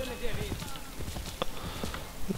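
Horse hooves in Assassin's Creed 3 during a horse theft, a quick run of clopping steps close by, mixed under a talking voice.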